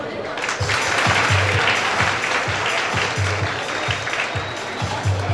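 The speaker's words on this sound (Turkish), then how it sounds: "onu bir alkış ben istiyorum" Crowd applause at a craft magazine awards ceremony, a steady, full wash of clapping over a regular low thumping beat, loud and continuous for about five seconds.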